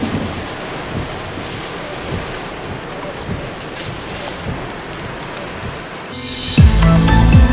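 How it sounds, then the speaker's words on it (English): Steady rain pours down outdoors at the Tanah Lot temple in Bali, a dense continuous hiss throughout. Near the end a louder, rumbling tonal noise cuts in over the downpour. "It's still raining outside."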